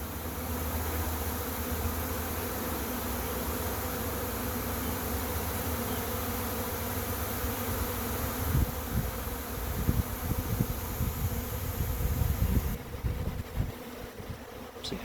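A honeybee swarm clustered on a tree and moving into a trap gives a dense, continuous buzzing drone that stays close and steady, swelling somewhat louder and busier toward the end.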